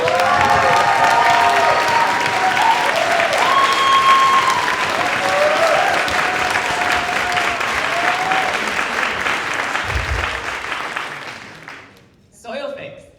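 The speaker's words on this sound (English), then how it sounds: "But time for the applause meter." Audience applause for the teams at a public pitch event, loud sustained clapping and cheering from a large crowd that swells briefly, then fades out near the end.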